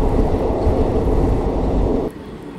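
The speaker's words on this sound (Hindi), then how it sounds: "यहाँ पर आधा घंटे की देरी से 8:36 पर हमारी ट्रेन का अराइवल हो गया है गुड़गांव रेलवे स्टेशन पर" Ranikhet Express pulling into Gurgaon railway station, a loud steady rumble of train wheels and carriages close by that cuts to a quieter hum near the end.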